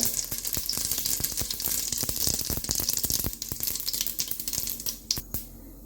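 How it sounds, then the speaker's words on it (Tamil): Mustard seeds sizzling and popping in hot oil, a dense crackle with sharp little pops that thin out toward the end. "இப்போ நாங்கள் கடுகு போட போகிறோம்"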